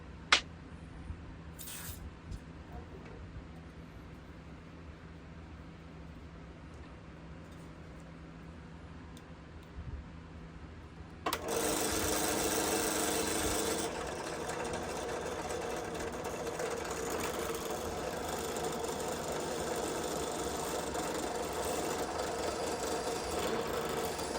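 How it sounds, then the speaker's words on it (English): A drill runs on a bushcraft knife blade clamped to a table, first a low steady whir, then a louder, harsher grinding buzz as the bit bites into the steel and keeps cutting. "But you'll see me drill both holes on this particular knife."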